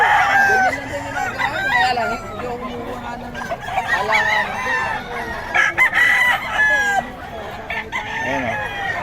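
Roosters and chickens at a market in Bocaue crow and cluck repeatedly nearby, overlapping calls in a busy mix with voices talking in the background.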